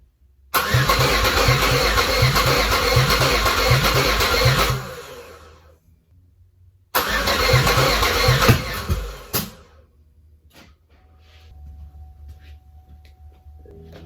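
A Chevrolet Malibu engine, with no exhaust fitted, cranks loudly with a rapid rhythmic chugging for several seconds, stops, then cranks again briefly before falling quiet, followed by faint clicks.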